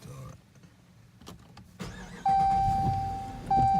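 Car engine starting up: a short cranking burst gives way to a steady idle with a sustained whine, rising abruptly in loudness and remaining close, with some faint background voices.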